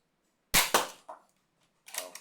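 A Nerf Alpha Strike Wolf LR-1 spring blaster fires an Elite foam dart, a sharp, close thwack followed by a quick second clack, a faint impact and a brief mechanical rattle as it is handled.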